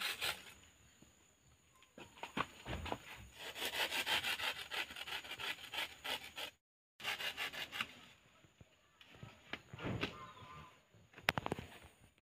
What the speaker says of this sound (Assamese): এয়া কল কটা হৈ গ'ল,